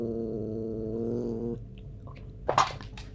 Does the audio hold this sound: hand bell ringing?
no